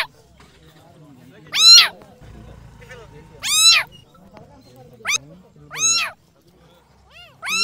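Kittens roaming a village in Eluru district meow loudly and close by, about five sharp rising cries spaced a second or two apart, with quiet shuffling and low noise between them.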